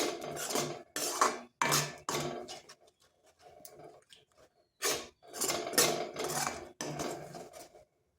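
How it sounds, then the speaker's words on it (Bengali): Ground spice paste stirred into lentils in a pot with a spatula, bursts of scraping and clinking against the pan separated by short quiet pauses, close and clear. "এইরকম চাটুর সাহায্যে একটু ভালো করে নেড়ে নিচ্ছি"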